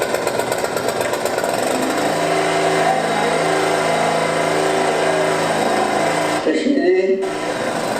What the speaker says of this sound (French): c'est un moteur, on démarre la balayeuse